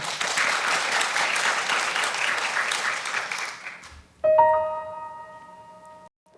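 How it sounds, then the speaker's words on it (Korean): Applause rises at a book concert to welcome a music duo. The clapping is steady and moderately loud for about four seconds, then stops and gives way to sustained instrumental tones. "박수로 청해 듣겠습니다."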